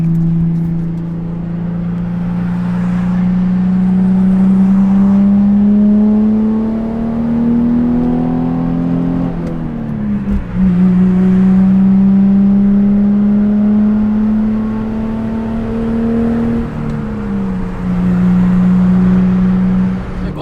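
Nissan 350Z accelerating onto the Merritt Parkway highway, its engine note climbing steadily through the gears with a brief dip at each shift, loud and continuous from inside the car.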